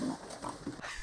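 Raccoons making short oinking, pig-like grunts, several brief calls in a quick irregular sequence, close and moderately loud with a faint background hiss.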